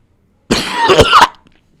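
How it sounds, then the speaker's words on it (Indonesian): A person gives a single short, harsh cough close up, loud and sudden, lasting under a second with no talk around it. "Gue batuk."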